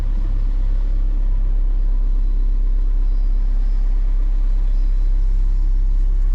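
A 2010 Audi with 264,000 km runs while driving, its engine giving a constant, loud, deep rumble that fills the whole stretch without a break.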